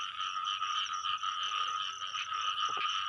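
Frogs call during rain: a dense, steady chorus of buzzing croaks heard close, with a faint wash of rain and a few soft knocks underneath.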